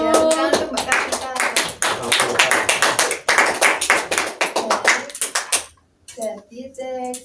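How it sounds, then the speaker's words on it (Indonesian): Close, brisk clapping from a small classroom group for a student presenter in an Indonesian language micro-teaching lesson, lasting several seconds before stopping, followed by brief speech. "tepuk tangan untuk Mbak Kartika"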